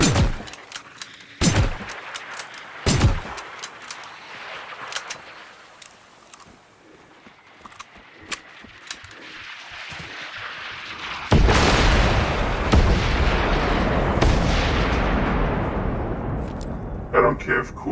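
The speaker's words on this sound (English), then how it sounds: "I don't care if cool guys don't look at explosions, that's fucking awesome. I am an artillery piece." Artillery fire in the video game Generation Zero: several heavy booming blasts and crackling impacts, loud and close, with a long rumbling roar of sustained explosions building toward the end.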